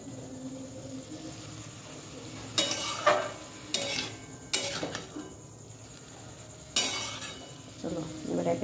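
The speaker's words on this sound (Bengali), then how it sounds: "একটু নেড়ে নিই, তারপর মশলাগুলো সব দিয়ে দেবো" Chicken keema is stirred in a pan: quiet background noise broken by several short scraping, clinking bursts of a spoon against the pan at irregular intervals.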